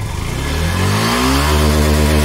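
A repaired Yamaha FZS motorcycle engine runs loud and close, its steady note rising smoothly as it revs up without knocking or clutch rattle.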